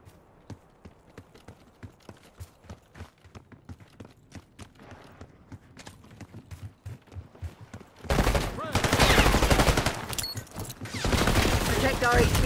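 Gunfire crackles in Call of Duty Black Ops 6 multiplayer, with scattered sharp shots at first and then a loud, dense burst of rapid automatic fire and explosions in the final seconds.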